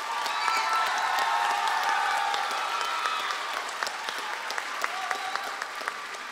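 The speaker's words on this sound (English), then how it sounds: "Give To Wonder another hand of applause" Continuous clapping from an audience at a Women's History Month awards celebration, a dense wash of hands with a few shouts, fairly even throughout and gradually softening.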